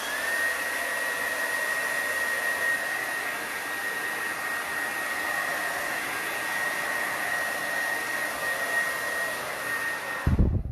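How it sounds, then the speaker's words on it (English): A hair dryer blows in a steady whirring hiss with a thin high whine, drying a thin coat of paint on a sign, running continuously until it cuts off abruptly at the end. "I'm going to hit it with a hairdryer really quick"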